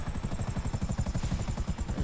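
A helicopter in GTA V thumps with fast, regular rotor beats over a whining engine, close and loud throughout, with no talk.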